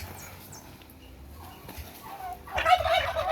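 Breeder turkey gobbling on a poultry farm raising turkey chicks, a loud burst arriving near the end after a quieter stretch of soft background noise.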